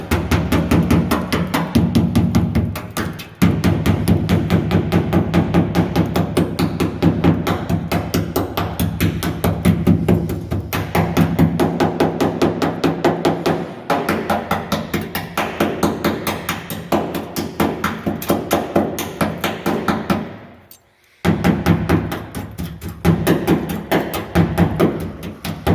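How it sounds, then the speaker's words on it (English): Rapid, steady metallic tapping of a chipping hammer against metal continues for a long stretch, pausing briefly twice before resuming. "I'll get my chipping hammer and wire brushes"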